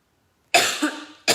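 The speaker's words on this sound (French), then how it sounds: "lorsque je parle trop, je tousse" One harsh, close cough after a moment of silence, then the start of a second cough right at the end.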